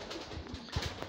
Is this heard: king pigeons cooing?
yes